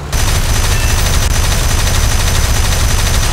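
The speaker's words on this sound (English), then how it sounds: "He's starting to shoot at you." Continuous heavy gunfire from a LaGG-3 fighter in War Thunder, a loud, dense, unbroken rattle of rapid shots filling the whole stretch, close and intense without pauses.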